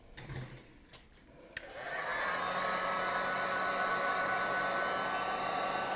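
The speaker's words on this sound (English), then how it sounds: "get your heat gun and just play it over the whole surface, all the way around it" A heat gun shrinks heat shrink tubing over freshly soldered wires. A few light handling clicks come first, then a steady, close blowing roar switches on and runs evenly to the end without speech.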